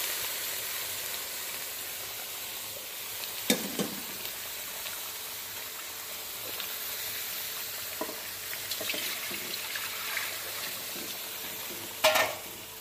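Baim fish frying in hot oil, a steady loud sizzle with occasional stirring scrapes and clinks of a utensil against the pan, heard alone without talk.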